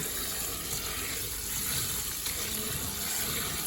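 Water running steadily as sticky rice is rinsed clean in a bowl, a continuous close splashing wash with no talking.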